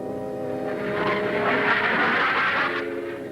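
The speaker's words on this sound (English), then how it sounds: "Major Stevens just called in for a landing. He's in the pattern now" A Starfighter jet aircraft flies a landing pattern, its engine a broad, steady roar that swells loudly toward the middle and eases slightly as it passes, with no voices.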